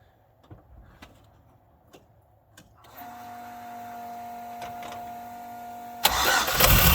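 A few faint clicks, then a car engine turns over and catches into a steady idle, jumping to a louder rev near the end.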